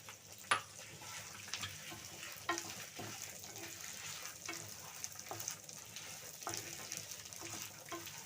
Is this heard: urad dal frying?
yes